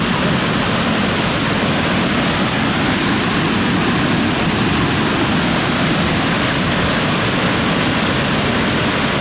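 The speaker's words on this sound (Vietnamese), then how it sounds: "Đây là thác hoàn toàn của bên Việt Nam, trên đỉnh cao chảy xuống, độ cao mấy chục mét." Ban Gioc Waterfall on the Vietnam side, plunging dozens of meters, roars as a loud, steady, unbroken wash of falling water with no voices.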